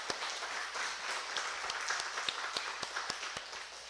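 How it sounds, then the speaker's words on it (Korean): Applause from a church congregation during a worship service, a steady wash of many hands clapping with a few sharper individual claps standing out, moderately loud and continuous throughout. "제가 좀 박수로서 격려해드리는 시간 갖겠습니다."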